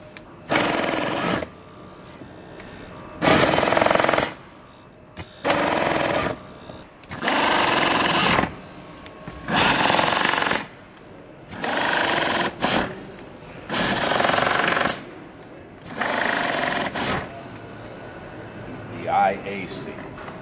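AcraDyne electric torque tool fastening, about eight loud bursts of whirring and rattling, each lasting roughly a second, separated by short quiet gaps in a steady repeating rhythm.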